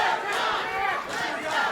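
A wrestling crowd roars in support of John Skyler, a dense, sustained cheer of many voices filling the arena.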